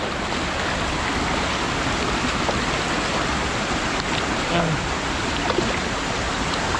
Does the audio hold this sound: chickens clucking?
no